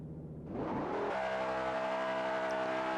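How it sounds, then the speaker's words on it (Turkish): The car engine of a BMW M5 E60 in the mobile racing game Assetto Corsa revs up with a rising whine, then settles into a loud, steady high-pitched drone with no talking. "Arabanın sesi muazzam. Güzel yapmışlar oyunda."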